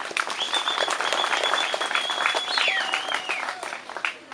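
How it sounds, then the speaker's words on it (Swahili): A gathered crowd at a Katavi birthday tree-planting event claps in sustained applause, dense and loud throughout, with a whistle-like tone and faint cheering mixed in before it tapers off. "Naomba tumpigie makofi mengi sana."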